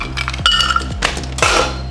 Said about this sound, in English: I'm just going to put a little bit more ice in there